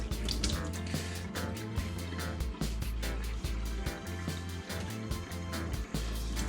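Water runs steadily from a faucet into a sink while a sponge used for wiping underglaze off pottery is rinsed, giving a close, continuous splashing and gurgling that stays fairly loud throughout.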